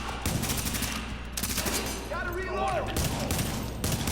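Rapid bursts of automatic turret fire crackle in Tom Clancy's The Division during a firefight, overlapping in quick volleys alongside other game effects at moderate volume.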